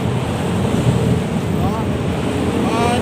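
Steady, roaring wind noise fills a tunnel in Metro Manila with a hollow, rumbling wash, loud and continuous, with faint whistling tones drifting through.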